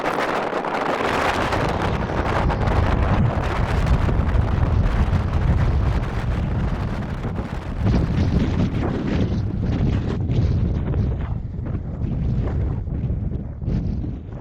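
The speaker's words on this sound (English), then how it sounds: "It's still a bit breezy, but the wind's picking up." Strong winter wind by Loch Brandy buffets the microphone in a loud, continuous roar that surges and eases without a break, with no voices.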